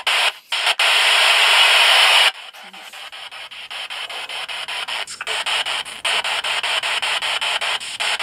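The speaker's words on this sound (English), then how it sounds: "It just sounds like switching through radio stations" An FM spirit box sweeps through radio stations in an attic, giving loud static hiss that chops into rapid bursts and fragments, steady and close throughout.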